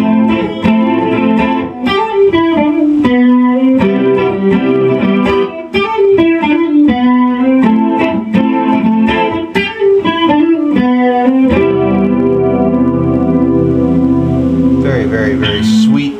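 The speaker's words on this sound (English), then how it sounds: "Acoustic tones, very crisp and clear, and again, dead quiet amp, dead quiet tube amp." Clean electric guitar played through a Bugera 333XL 2x12 120-watt tube combo amp, crisp chorused chords and single notes ringing loud and alone before settling into a sustained final chord.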